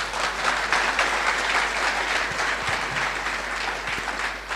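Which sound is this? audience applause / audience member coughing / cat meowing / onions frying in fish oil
audience applause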